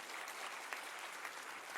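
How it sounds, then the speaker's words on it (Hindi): Steady applause from a crowd at a school awards ceremony, dense clapping that holds evenly for the whole moment, somewhat distant and soft. "जब संख्या 309 विद्यालय की हो तो तालियों की गूंज भी उसी स्तर की होनी चाहिए।"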